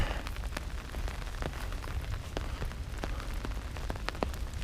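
Steady rain patters on a surface at Blue Lake in Vynohradar, Kyiv, with scattered sharper drips ticking over a constant soft hiss, moderately faint.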